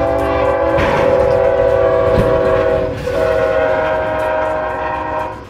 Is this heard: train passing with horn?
yes